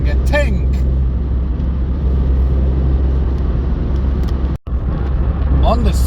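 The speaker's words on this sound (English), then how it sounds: "And the sound of it, listen. Each time you accelerate, it's like you're driving a tank." A 2015 Citroen C1 with the 1.4 HDi diesel engine drones in a loud, low, steady rumble from inside the cabin while accelerating, and a voice talks over it.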